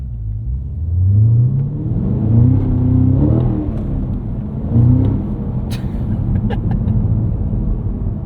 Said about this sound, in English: you can rev match 1st gear very smoothly because the gears in this thing are so long